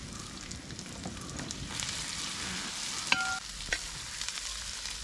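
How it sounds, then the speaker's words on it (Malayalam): Onions sauté with salt in a pan for chicken curry, giving a soft, continuous sizzle with a couple of sharp utensil clinks partway through, close and quiet. "അപ്പോൾ ആ സവോള നന്നായിട്ട് പെട്ടെന്ന് വാടി വരും."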